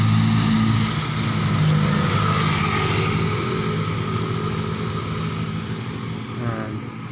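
A live electrical wire struck by lightning beside a highway hums steadily like a swarm of bees, a constant low drone with traffic-like rumble running throughout.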